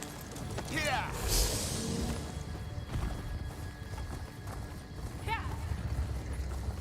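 Clip-clopping hooves of a horse mount in the Elder Scrolls Online game, a steady trot mixed with a whinny and occasional game effects, heard under a man's speech.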